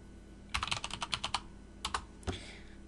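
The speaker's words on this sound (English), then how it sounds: "So we can just go ahead and type in a password." Keys on a computer keyboard clatter in a quick burst of about a dozen close, crisp taps, then a few more strokes and a final heavier key press, with no voices.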